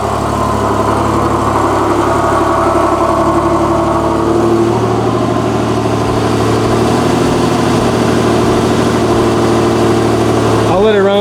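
A single-turbo Nissan 370Z engine idles steadily and loudly, close by, with a constant low rumble throughout.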